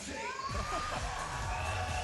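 Crowd at a yo-yo contest cheering and whooping, a dense steady roar of shouts and calls lasting the whole stretch, moderately distant.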